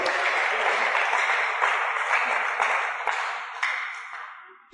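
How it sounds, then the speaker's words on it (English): A church congregation gives a clap offering, a wash of fairly soft clapping that fades out and then cuts off abruptly. "Give God a clap offering if you understand what I'm talking about."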